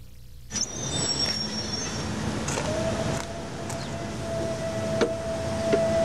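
Ambient hall of the Casablanca train station in Morocco with a low rumble, a long steady tone and scattered clanks and thumps, like trains idling nearby.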